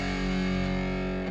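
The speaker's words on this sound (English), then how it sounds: "I skip over to 3 and I have a distortion sound." An electric guitar plays through a distortion pedal on a pedalboard, one thick, saturated sustained chord held steady and loud before cutting off.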